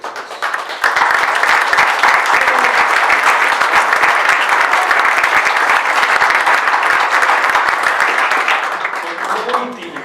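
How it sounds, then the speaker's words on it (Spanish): Loud, sustained applause from an audience at a book presentation, dense clapping that starts almost at once, holds evenly for several seconds, then thins out near the end. "Me gustaría darle un aplauso a los dos."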